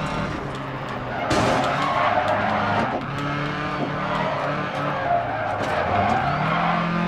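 Rally car engine roaring and revving loudly as it skids and slides on a rallycross track in the Dirt Rally video game, with steady engine drone and shifting pitch throughout.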